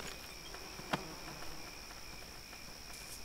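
Crickets chirp at night in Neverwinter Nights, a steady high-pitched trilling chorus that runs continuously, fairly faint, with a couple of soft clicks and taps, no voices.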